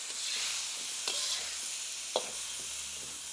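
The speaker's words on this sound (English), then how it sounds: "come back to the vegetables, give them a stir fry." Vegetables stir-fried in a pan for chicken in oyster sauce with noodles give a steady, close, broadband sizzle. A few sharp scrapes of stirring cut in near the one-second mark and again just past two seconds. No one speaks.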